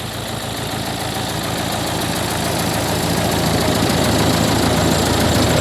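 A mobile rice mill's engine with a three-way gearbox runs steadily and loud, a dense, even rumble that builds slightly in level with no pauses, alone and without talk.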